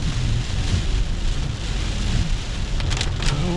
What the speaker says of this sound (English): I don't understand all this rain.